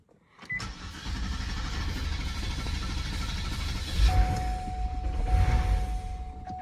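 A supercharged Cadillac STS-V engine cranks and catches after a brief starter whir, then settles into a steady close idle with rising revs near the end, loud and alone.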